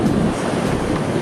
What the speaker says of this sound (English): So just enjoy the waves.